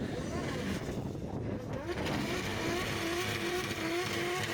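A Pro 2 race car at a track rumbles and revs through a burnout past the line, its engine droning steadily and wavering in pitch under a continuous wash of crowd and commentary noise.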